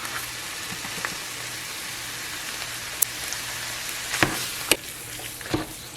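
Ground turkey breast with taco seasoning fries in a skillet, giving a steady soft sizzle and hiss with a few sharp clicks and taps from stirring near the end.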